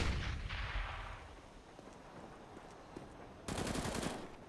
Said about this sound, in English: especially with the bullets just raining past him